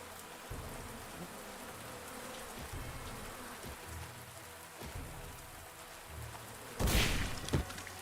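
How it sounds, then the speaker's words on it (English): A swarm of bee enemies in the video game Coven gives a faint, steady buzzing drone under soft, rain-like patter, with a brief louder burst near the end. "I did not think there was going to be a bee enemy in this game."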